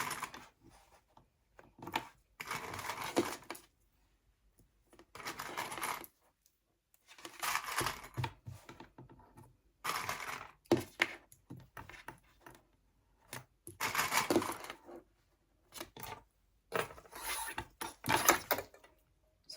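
A home sewing machine runs long basting stitches on a beauty bag, set to its longest stitch length of 5; short whirring bursts start and stop repeatedly with brief pauses, close up and with no talking.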